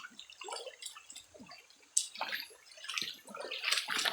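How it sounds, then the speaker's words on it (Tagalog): Rushing, splashing water from a strong flood, a steady churning wash with bright spattering bursts and drips, close by and moderately loud. "Lakas pala talaga ng baha"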